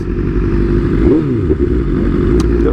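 Motorcycles crowd a large group bike ride event with over a hundred riders, a dense, continuous low engine rumble with a brief rev rising near the middle, loud and close throughout.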